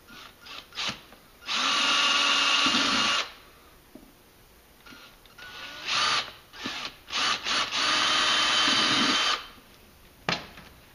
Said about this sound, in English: once we've got the holes located, we're going to go ahead and do a pilot drill.